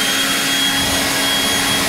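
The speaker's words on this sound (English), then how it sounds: "So it is a very, very quiet blower." A Stihl AK-series battery leaf blower runs steadily at close range, giving a continuous broadband whoosh of rushing air with a faint high whine, even and unbroken from start to end.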